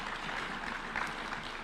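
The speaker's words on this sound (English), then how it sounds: "Yes, we can clap for them." An audience applauds at an official State House event on a refugee plan, producing a brief, even burst of clapping from a crowd.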